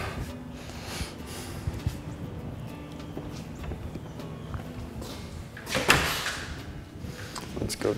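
A newly installed garage service door in a home opens or closes with a few light clunks and knocks, then a louder swishing sweep near the end.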